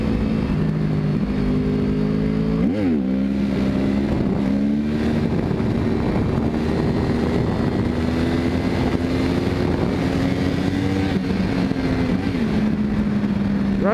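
2011 Yamaha R1 sport bike engine drones loud and close at speed, with a quick rev spike as the clutch is popped for a wheelie, then a sustained high-pitched run with wind noise.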